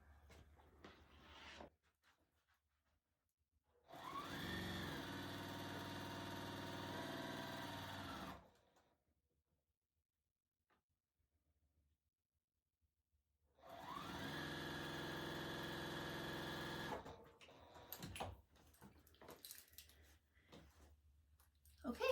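A sewing machine chain piecing quilt blocks runs in two steady bursts of about four seconds each, close and alone, separated by quiet handling, with faint clicks and rustling afterward.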